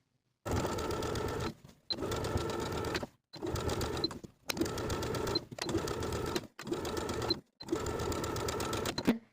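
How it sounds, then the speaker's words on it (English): A sewing machine stitches a jumpsuit facing to its seam allowance in six or seven steady bursts of a few seconds each, separated by short pauses, close and clear with no talking. "we're going to sew this facing to its seam allowance with about 1/8 inch seam allowance all the way from center back to center back"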